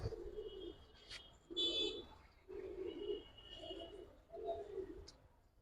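Soft, low pigeon coos repeat in short rounded phrases, with a few faint chirps and rustles between them, fairly quiet and close.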